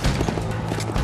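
Undead horse galloping in Red Dead Redemption: Undead Nightmare, a brief burst of quick, heavy hoofbeats against a dense, rumbling backdrop.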